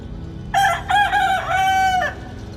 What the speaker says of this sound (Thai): ไก่ตัวนั่นขันเตะหัวแรงเลยเนาะ